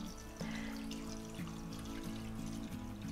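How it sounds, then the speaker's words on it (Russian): Cold water pours into a pot holding glass jars set on a cloth, a steady splashing trickle with a faint ringing tone, quiet and close, no voices. "Заливаем банки холодной водой"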